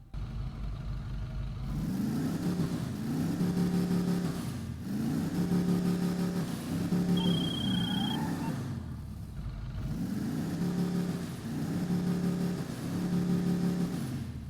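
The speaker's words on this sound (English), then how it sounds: "Alright, guys, let's see what it sounds like." A muscle-car engine from the Albany Buccaneer in GTA Online revs repeatedly, each throttle blip rising and falling in a low rumbling growl, moderately loud with brief quiet gaps between rev cycles.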